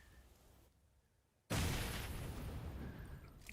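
A grenade goes off in a battle-royale video game match as a single sudden loud blast after a near-silent pause, followed by a sustained roaring rumble that slowly fades.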